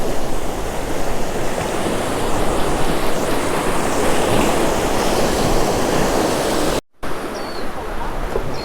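Ocean waves wash steadily against the shore while fishing, a loud continuous surf roar with wind buffeting the microphone and a brief dropout near the end.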